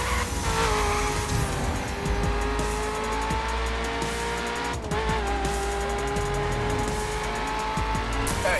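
A car engine in the video game The Crew revs steadily with tires squealing and skidding, loud and continuous with a racing, game-like sound throughout.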